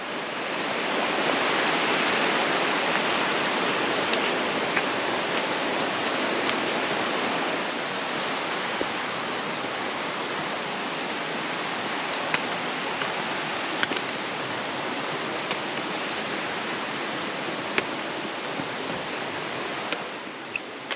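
A river flowing beside a wet hiking trail in the White Mountains of New Hampshire after heavy rain, a loud, steady broadband rush of water that stays constant throughout, with no voices.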